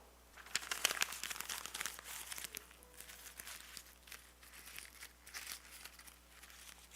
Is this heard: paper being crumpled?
yes